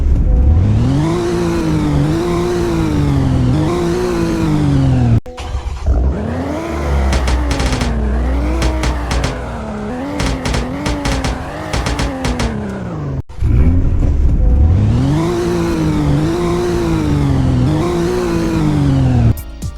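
A BMW car engine in the video game Greenville revs up and down in loud, continuous sweeps with gear-shift drops, sustained at close range throughout.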